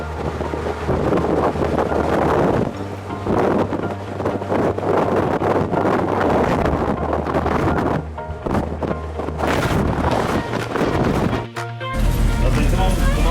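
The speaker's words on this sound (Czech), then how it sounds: "To je vítr." Strong wind buffets the microphone beside a ferry on the Norwegian coast near Veiholmen, a loud continuous roar and rumble with gusting bursts throughout.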